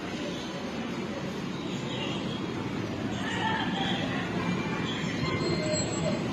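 A brand-new air-conditioned local train on the Ranaghat to Sealdah line gives off a continuous rumble with wheel and rail noise, steady and close throughout, with no one speaking.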